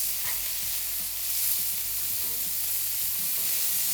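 Burger patty sizzling on a flat top griddle, a steady dense hiss and crackle that stays loud and even throughout, close with faint scraping beneath.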